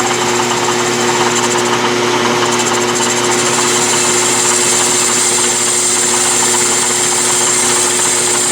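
Metal lathe turning a taper on a lead hammer mold with the compound rest, a loud continuous machine drone with steady mechanical hum and faint tonal whine, no talking.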